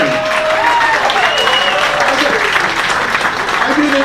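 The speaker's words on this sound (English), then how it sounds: "Let's give her a hand around the mirror." Applause from a magic show audience, a dense steady clatter of clapping filling the whole stretch at close range, with a few voices mixed in.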